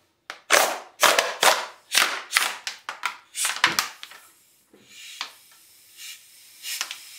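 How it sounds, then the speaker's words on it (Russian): A compressor pumps up a homemade lift slid under a door, producing a run of loud, rhythmic hissing bursts, about a dozen strokes in quick succession, that then grow sparser and quieter. "подключаем наш компрессор"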